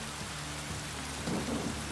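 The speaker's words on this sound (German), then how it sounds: "Und Regen gibt's auch." Rain in the motorcycle racing game Ride 3 on the Imatra circuit, a dense steady hiss of falling rain with a low rumble swelling near the end, no voices.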